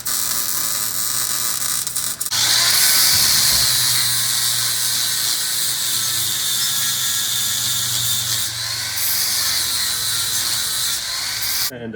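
A power tool bolts a new 48V lithium battery into a golf cart, giving a loud, continuous buzzing whir with short breaks and rattling bursts throughout.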